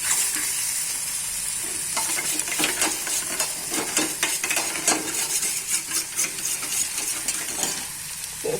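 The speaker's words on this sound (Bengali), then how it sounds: "এখন খুব ভালো করে মিশিয়ে নেব" A spoon works cashew paste mixed with sour yogurt in a pan for a fish roe dish, making repeated close scraping and clinking strokes over a low, steady sizzle, with no talking.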